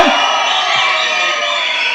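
An audience at a Tamil film audio launch cheering loudly, a dense sustained roar of crowd shouts and whoops with applause mixed in, filling the whole moment.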